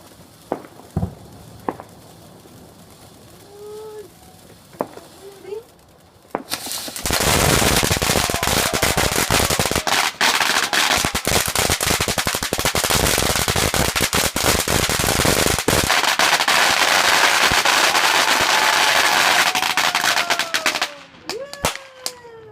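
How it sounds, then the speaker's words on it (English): Loud, continuous crackling and popping bursts from New Year's fireworks fill most of the clip, after a few scattered distant bangs and faint voices at the start. "These fireworks are weird."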